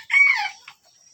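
A free-range village chicken in a bamboo and wood coop gives a single brief clucking call, close and clear against near silence.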